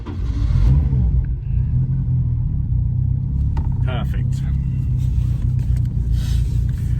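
A Ford Cortina Mk5 with a turbocharged Pinto engine rumbling loudly at close range after starting, settling into a deep steady idle with a few clicks and rattles, while someone speaks briefly.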